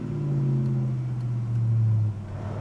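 A 1972 Oldsmobile 442 pulls away in first gear, its engine giving a loud, steady low rumble that holds through most of the stretch, rises slightly, then drops off near the end.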